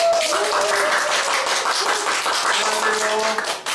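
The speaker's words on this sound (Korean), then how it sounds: "큰 박수 부탁드립니다" A studio audience at a book show gives warm applause welcoming an author onstage, steady crowd clapping with faint background voices and a few tonal sounds layered underneath.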